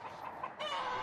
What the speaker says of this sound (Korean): 찬회 씨가 닭장 속으로 들어가 모이를 준다